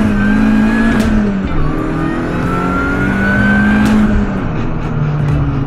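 Mini Cooper S R53 engine revving hard and climbing through quick gear shifts, with rising and dropping pitch sweeps at each change; loud, close and continuous with no talking.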